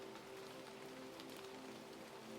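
Steady rain falling through a forest, a dense even patter of drops on leaves and ground, soft and continuous with no voices.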